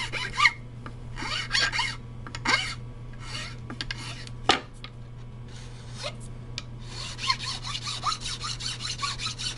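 Sandpaper of 220 grit rubbed over a guitar nut during final shaping, a series of close, dry rasping strokes in bursts with short pauses between them.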